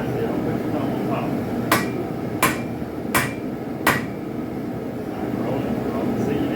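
Four evenly spaced, sharp hammer blows ring out on a spike knife being forged, each strike bright and distinct over a steady background rumble, with people talking nearby between strokes.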